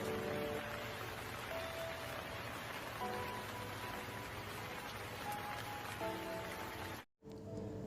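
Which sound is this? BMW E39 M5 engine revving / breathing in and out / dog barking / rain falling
rain falling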